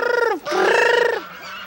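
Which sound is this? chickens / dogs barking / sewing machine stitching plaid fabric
chickens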